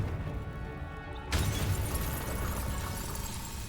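A Confringo blasting spell from Hogwarts Legacy erupts suddenly into a loud, low booming explosion, followed by a dense, sustained rumble with crackling debris that fills the rest of the moment.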